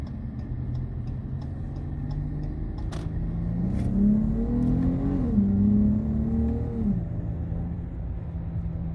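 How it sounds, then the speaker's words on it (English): A Dodge Challenger SXT V6 in paddle-shift mode drones steadily from inside the car, its engine note climbing and dropping as it downshifts through the middle of the stretch. "It downshifts pretty decently too."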